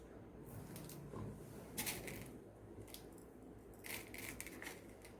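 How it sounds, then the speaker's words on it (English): Glass beads poured onto glue on a festive clay diya give a faint, scattered rattle of small clicking bursts, one cluster near two seconds and another near four, over quiet room hiss with no talk. "You can just pour the glass beads on the glue."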